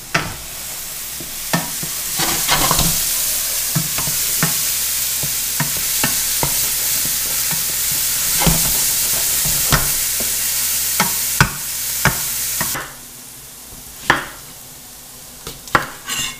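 A steady sizzle of mushrooms frying in a pan, with occasional scrapes and taps of a utensil stirring, no voices.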